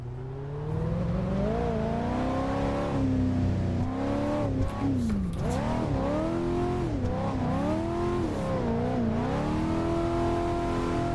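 A 400 horsepower 1988 Monte Carlo drift build in the racing sim Assetto Corsa, its engine droning loudly and revving up and down repeatedly through gear changes, with pitch swooping as the throttle is worked.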